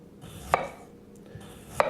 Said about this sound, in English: So we're going to slice nice rounds,